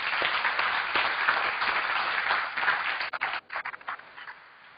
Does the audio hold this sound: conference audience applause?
yes